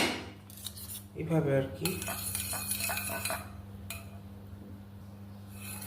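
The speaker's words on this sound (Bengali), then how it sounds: "এটাকে ভালো মতন উইস্ক করতে হবে, হালকা লবণ দিয়ে উইস্ক করতে হবে ভালো মতন।" Three eggs being whisked with a little salt in a bowl, a close metal whisk clinking and scraping against the bowl in quick bursts, with brief speech over it.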